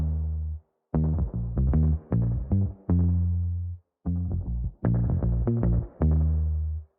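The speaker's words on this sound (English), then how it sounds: "made for a palm muted bass, which is what I have pulled up." Palm-muted bass phrases run through a Silver Spring effect preset with a high-pass filter, giving thick, chunky low notes in short rhythmic bursts with brief gaps between, played alone.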